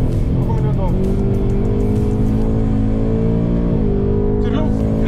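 A car kicks its rear out while accelerating, the engine revving loud and close with tires squealing and pitch shifting as it slides, while people talk over it.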